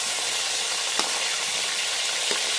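Sliced onion and long green chilies frying in hot oil for a jackfruit biryani, a steady loud sizzle throughout with a couple of brief sharp crackles or stirring clicks.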